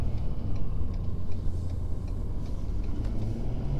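A 2020 Ford Super Duty pickup truck with a turbo pulls out and drives, a steady, close, low engine drone with faint ticking and no voices.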